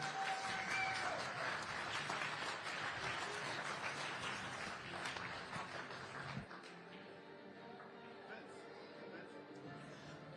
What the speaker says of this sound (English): One more round of applause for Alex Kazakis and Jasmine Ocean